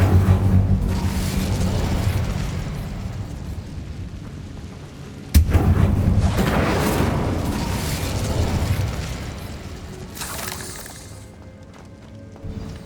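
Spell explosions from the Bombarda curse in the Hogwarts Legacy video game: a rolling series of rumbling blasts, with one sudden sharp crack around the middle and a dull thump near the end.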